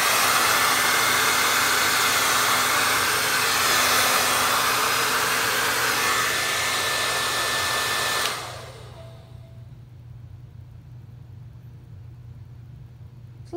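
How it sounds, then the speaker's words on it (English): A heat gun blows over an acrylic Dutch paint pour, a loud steady rushing hiss that stops abruptly partway through and leaves a quiet room tone. "Let me get my heat gun"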